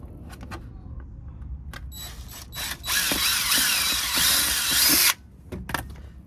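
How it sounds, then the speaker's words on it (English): A power drill whirs in a sustained burst of a couple of seconds while mounting a car mud flap, preceded by scattered clicks and short handling noises, close and loud. "There, we're going to drill it."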